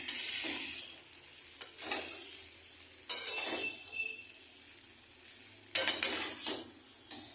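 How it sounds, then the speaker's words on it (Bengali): Curry with Kashmiri red chili being stirred in a pan, with repeated scraping and clinking of a metal spoon against the pan over a faint sizzle, close and rhythmic, no voices. "কাশ্মীরি রেড চিলি দেওয়ার পর আমরা আরও ধীরে ধীরে নাড়তে থাকবো যাতে সেটা ভালো করে মিশে যায়"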